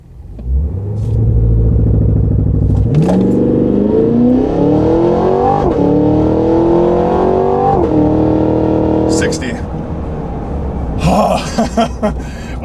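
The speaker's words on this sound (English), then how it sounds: "What I'm gonna do is come to a stop, and then I put the brake all the way down, and then I'm gonna floor it" A 2023 Cadillac Escalade-V launches from a standstill, its engine climbing in a long loud rev through rising gears before easing off, followed by brief clatter near the end.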